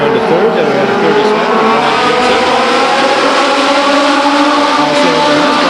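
Legends race cars circle the Stockton 99 Speedway oval in a ten-lap event, a dense pack of engines droning loudly and steadily with occasional tire squeal, while an announcer's voice carries over the track noise.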